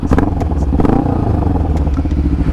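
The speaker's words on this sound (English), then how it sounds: "So I actually have a car muffler on this thing, but I mean, it sounds good." A carbureted motorcycle engine fitted with an aftermarket car muffler runs loud and close, with a steady low throbbing exhaust note and a slight rev swell near the start.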